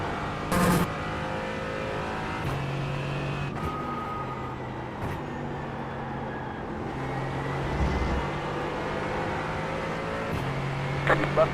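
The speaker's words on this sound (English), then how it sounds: "Faster car coming up quick" Race cars circle Watkins Glen in iRacing as a steady engine drone with shifting revs, and a faster prototype closes in and passes. No one speaks.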